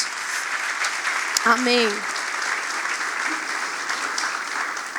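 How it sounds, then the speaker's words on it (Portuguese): A church congregation claps steadily through the whole stretch, a dense even wash of applause, while a voice briefly speaks over it near the middle. "Pode dar um forte aplauso ao Senhor Jesus."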